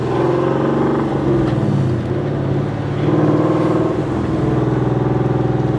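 An 800hp Whipple-supercharged Ford Mustang engine, a car with 5,500 miles, runs with a steady loud rumble that swells slightly as the throttle is blipped, heard from inside the car, with no clear talk.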